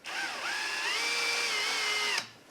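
A power drill runs steadily for about two seconds, driving screws into the crankcase of a Husqvarna 372 chainsaw, its motor whine rising slightly in pitch before stopping abruptly; close and fairly loud, with no talk.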